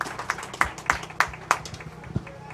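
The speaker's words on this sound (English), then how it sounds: "Let's give these bred and fed exhibitors a nice round of applause." Scattered claps from a small crowd at a 4-H cattle show, applauding the bred and fed calf exhibitors, with a handful of sharp, uneven hand claps rather than a full ovation.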